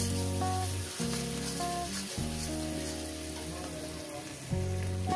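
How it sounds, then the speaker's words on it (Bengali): Small shrimp pieces fry in a pan with a soft, steady sizzle throughout, joined by a tonal musical backing underneath. "এভাবে একটু ভেজে নেবেন।"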